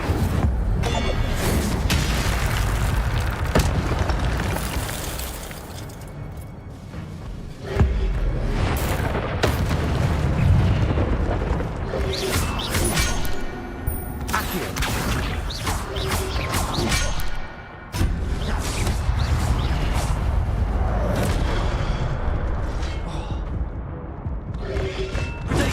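Incendio fire spells blast in the Hogwarts Legacy video game, repeated heavy booming bursts and crashing impacts under dense game action, some sharp loud hits standing out over a continuous rumbling bed.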